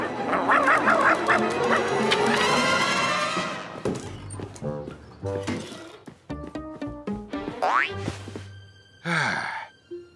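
Cartoon duck quacking in a Garfield episode, a series of honking, squawky calls mixed with comic sound effects and music, loud and close, with a voice sighing and exclaiming nearby.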